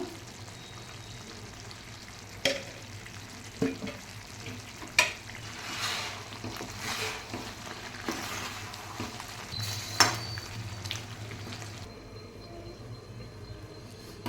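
Chicken frying in a pan as chili powder is added and stirred, a soft continuous sizzle with intermittent scraping and clinking of a spoon against the pan, fairly quiet and without talk.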